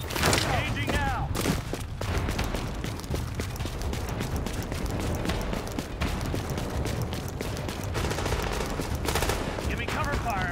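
Dense gunfire from The Division video game, with automatic bursts and rapid shots running loud and continuous throughout, sharp cracks standing out over a constant battle roar, and voices shouting beneath the shooting.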